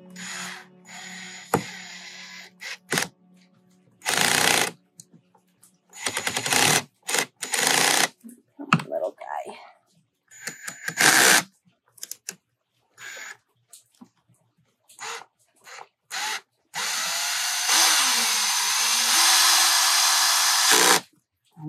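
A power drill drives tapered screws into a wooden garden arbor in short bursts of whirring separated by pauses, close and fairly loud, with a longer sustained run near the end.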